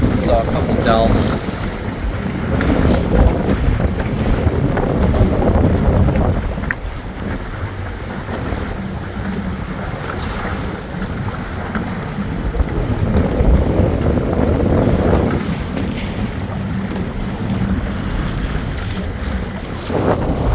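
A pontoon boat cruises on the Gulf of Mexico off Crystal River, its steady motor rumble and water rush mixed with heavy wind buffeting the microphone, loud and continuous throughout.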